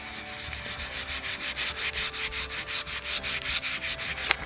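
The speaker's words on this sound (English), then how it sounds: "make sure you sand it down to where you can" Hand sanding of a taped joint edge on a wall, heard as about twenty regular back-and-forth rasping strokes at an even rhythm, close and alone.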